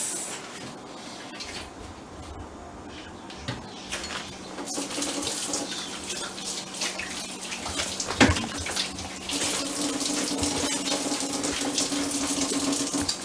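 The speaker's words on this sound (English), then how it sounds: "always remember to wash your hands" A kitchen tap runs steadily into a sink for handwashing, a continuous close splash that grows louder and fuller partway through as the flow increases, with no talking.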